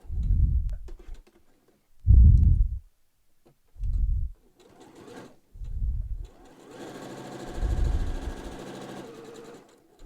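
A sewing machine stitches a reversible fabric mask with ties in short close bursts, stopping and starting as the needle pivots at corners, with a longer steady whirring run near the end.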